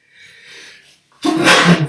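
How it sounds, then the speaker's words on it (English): A single loud, close sneeze from a man with a cold bursts out after a soft indrawn breath, with no talking around it. "please forgive me if I have to sneeze from time to time"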